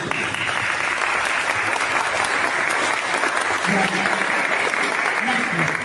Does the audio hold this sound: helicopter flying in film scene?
no